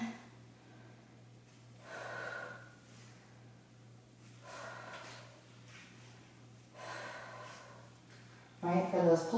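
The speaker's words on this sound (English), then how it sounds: "Make sure you're breathing." Slow, audible breaths drawn in and pushed out during a no-equipment pilates lower-body exercise, coming in several spaced waves over a steady low hum, followed by a louder burst at the end.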